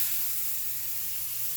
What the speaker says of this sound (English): I'm getting ready to put my chicken in the cast iron skillet. So here we go. It's gonna sizzle a little bit